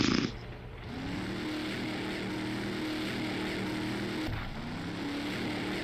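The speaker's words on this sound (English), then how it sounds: "that's the engine. On the ice cream truck. That's what the engine does." Ice cream truck engine in the Brick Rigs video game, a steady low droning rumble with a throaty, slightly rattling hum that runs continuously, briefly dipping and restarting near the end, with no talking.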